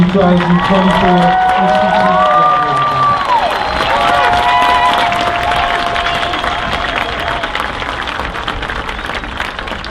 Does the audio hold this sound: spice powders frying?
no